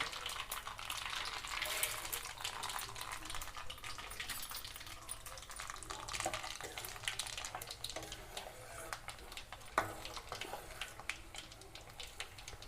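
Chana dal fries in hot oil with curry leaves for a tomato pickle, giving a steady, faint hiss and crackle throughout with a few brief louder pops.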